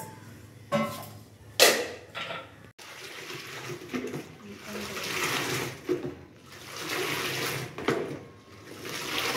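Cold water runs and splashes into a container as it fills for washing clothes, surging in uneven bursts with brief pauses and knocks between them. A voice is faintly audible under the water.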